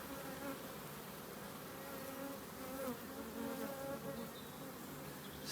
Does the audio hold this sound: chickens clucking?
no